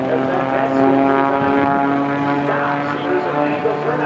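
A propeller-driven airplane roars past at high speed during an airshow at the Battle Creek Field of Flight and Balloon Fest, with a loud, steady droning engine throughout and an announcer talking over it.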